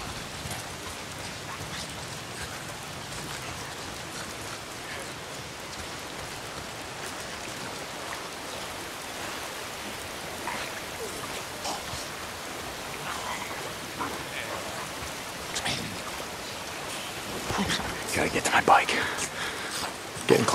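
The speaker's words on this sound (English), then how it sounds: "Why is it always raining?" Steady, soft patter of rain falling continuously in the video game Days Gone, fairly faint, with a few louder bumps near the end.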